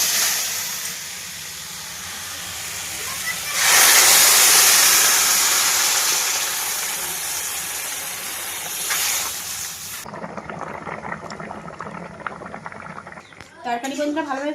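Water poured into a pan of frying fish sets off a loud burst of hissing and sizzling that slowly settles, followed by clatter and a voice speaking near the end.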